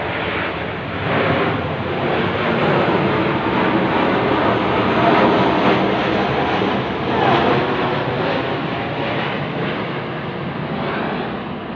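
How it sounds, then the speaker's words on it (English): A military aircraft passes overhead above an Australian city street, a loud continuous broadband roar that swells and holds steady throughout without any speech. "Here comes a military controlling plane over my head."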